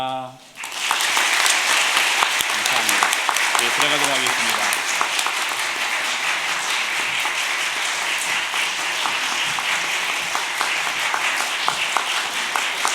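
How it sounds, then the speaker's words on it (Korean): A church congregation applauds retiring deaconesses at an honorary appointment service, loud continuous clapping filling the hall for over ten seconds, with a voice speaking briefly at the start over the sound. "우리 다 같이 인사할 때 마지막으로 박수하고 들어가 앉으실 때까지 우리 박수했으면 좋겠습니다."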